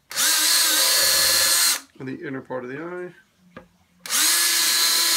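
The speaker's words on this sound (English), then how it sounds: "Drill in a couple of places." Power drill boring holes into a Lexan trim faceplate for a TK armor helmet, two loud sustained whirring bursts at start and end with someone speaking briefly between them.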